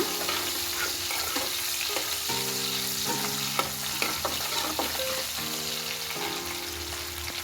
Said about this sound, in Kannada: ಈಗ ಮೆಣಸಿನ್ಕಾಯಿ ಹಾಕೊಳಕತ್ತೀನಿ ಕುದಿತಾನೆ ಬಿಟ್ಟೋಣ